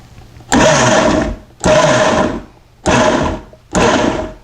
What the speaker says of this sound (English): This is our Vitamix we're using to blend puree these fruits together.